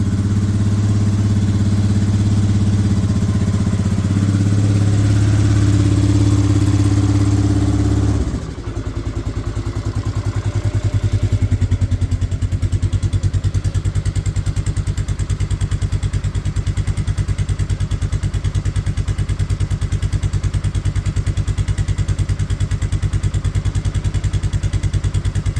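A 2004 Polaris Sportsman 400 ATV engine runs after start-up, a close, loud, steady idle with a throbbing low hum that drops in pitch and settles into an even, rapid chug.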